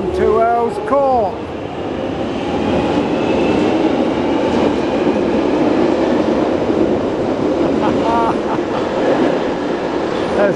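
A London Underground train at Green Park station on the Victoria or Piccadilly line rumbles loudly and steadily throughout, with rail clatter and brief squeals, while voices talk near the start and again toward the end.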